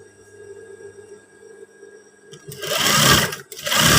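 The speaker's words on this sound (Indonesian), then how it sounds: "Kita jahit dibalik aja daerah sini" A sewing machine stitches trousers along the back of the fold, starting loudly after a quiet hum and running steadily with one brief pause.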